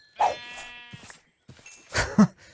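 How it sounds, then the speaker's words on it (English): Sheep in the RLCraft Minecraft modpack, a flying sheep: one wavering, nasal bleat rings out clearly near the start, followed by a few shorter game noises after a brief gap. "The flying sheep."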